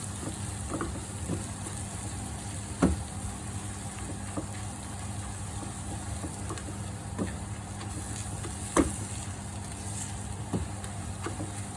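Turmeric frying in a pan for a samosa filling, a soft, steady sizzle with occasional light scrapes and taps of a utensil, heard close with no voices over it.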